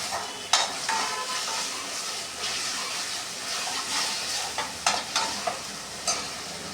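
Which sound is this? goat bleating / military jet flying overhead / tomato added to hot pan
tomato added to hot pan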